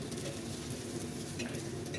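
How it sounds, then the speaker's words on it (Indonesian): Seasoning being stirred into food in a pan over the heat, a steady close scraping and stirring with a soft sizzle underneath, continuous throughout with no talking. "lalu kita aduk agar bumbunya ini tercampur merata"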